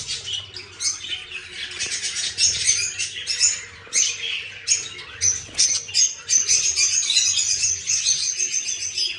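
Poultry in a farmyard where birds are sitting on eggs to hatch them, with ducks and chickens among them, give off busy overlapping chirps, squawks and calls, close and continuous, with no talking.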